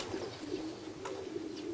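Racing pigeons arriving at a loft in Toruń after a race from Strasbourg coo softly, a low, repeated murmuring against faint, steady outdoor background noise.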